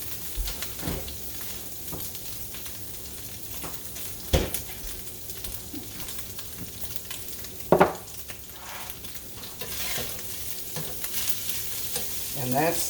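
Breakfast sausage frying in a pan for gravy, a steady close sizzle with scraping stirs and a few sharp utensil clicks against the pan throughout.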